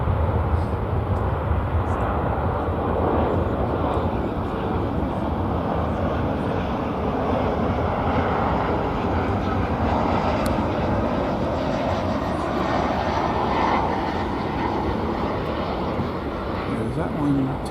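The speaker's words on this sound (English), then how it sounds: "Meanwhile, you can hear the roar of the engines of a" Airliner engines roaring loudly during takeoff on runway 18 left at DFW Airport, a steady, powerful rumble that holds strong throughout with no breaks.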